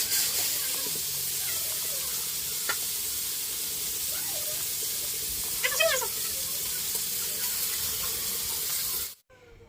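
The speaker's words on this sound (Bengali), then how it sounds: "এখন মাছগুলো ভাজছি।" Small fish fry in hot oil in a village kitchen, giving a continuous bright hiss and sizzle with a few faint clinks and pops. The sound runs steadily for about nine seconds, then cuts off abruptly.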